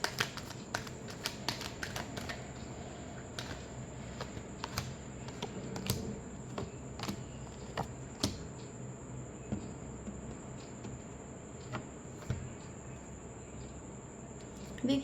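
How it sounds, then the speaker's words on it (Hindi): Tarot cards being shuffled for a Capricorn love reading, giving a steady run of soft, dense riffling clicks and sharp card snaps spread over the whole stretch, close and fairly quiet. "last shuffle,"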